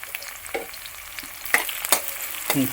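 Eight finely chopped green chilies fry in a pan for a Kerala-style chicken stew, a soft sizzle punctuated by a few sharp scraping stirs toward the end.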